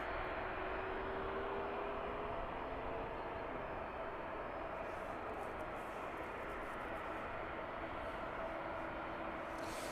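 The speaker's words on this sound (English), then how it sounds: "the 757 finally on the move" A Boeing 757 rolls toward the runway at an airport in the evening, a steady, distant engine drone with a faint whine holding at constant level throughout.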